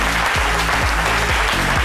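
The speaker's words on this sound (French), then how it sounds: "Merci de l'applaudir très, très fort." Loud, dense applause from a television studio audience welcoming a guest onto a French midday talk show set, steady and sustained for the whole stretch with a low rhythmic musical thump beneath it.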